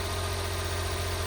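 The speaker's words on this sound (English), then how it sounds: "Yeah, engine sounds good," A Honda Z PA1 kei car engine idles steadily in a garage, a low, even thrumming hum with a fine rhythmic pulse, constant in level and alone without voices.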